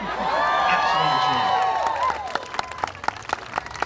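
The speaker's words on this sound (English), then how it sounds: "I think everybody here deserves a round of applause" An audience at a steampunk festival breaks into applause, loud, dense clapping that thins into scattered individual claps, with voices and a sung or whistled tone over the start.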